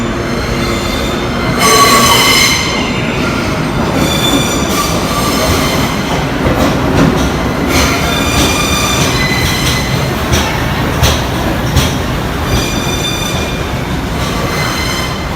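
A US subway train rumbles loudly into a station, wheels clattering and squealing with a thunderous roar that stays heavy throughout.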